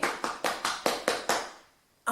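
Seven evenly spaced hand claps, close and crisp, at a quick steady rhythm, followed by a short pause and the start of one more clap.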